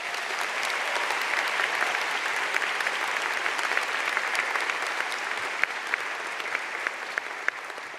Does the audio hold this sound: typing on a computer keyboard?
no